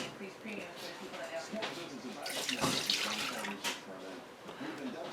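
Stock being poured into a crock pot, a splashing liquid stream that swells in the middle, heard close under a person talking over it.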